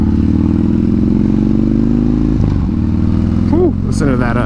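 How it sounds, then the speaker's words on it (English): Harley-Davidson Street Bob custom motorcycle exhaust rumbling loud and close with a steady low throb, while a rider talks over it and the engine note shifts near the end. "it sounds great, like this exhaust that's on it"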